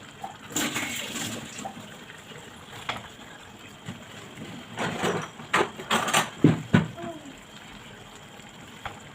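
Broth poured into a pot of frozen okra makes intermittent close splashing and gushing liquid sounds, several uneven pours that grow louder toward the end, with faint background noise between them.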